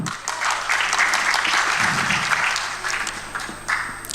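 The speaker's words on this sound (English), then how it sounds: "A big round of applause to IMWF for this conference that brings us together from across the globe." A conference audience claps steadily for several seconds, a dense, even patter of many hands that holds its level throughout.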